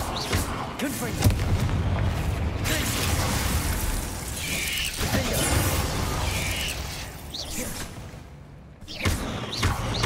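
Confringo fire spells cast in Hogwarts Legacy against spiders land as a run of booming, thudding blasts and crackles over a continuous battle din, with a person talking over them.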